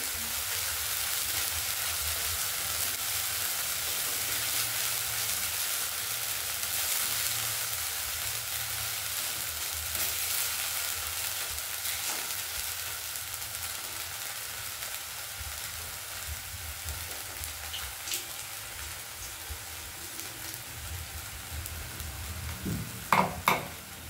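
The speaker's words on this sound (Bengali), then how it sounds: "এবার মশলাটা দিয়ে ভালো করে মা কষে নেবেন" Spice masala for a rohu fish curry fries in a pan with a steady, moderately loud sizzle that lasts throughout, with light utensil clinks toward the end and no speech.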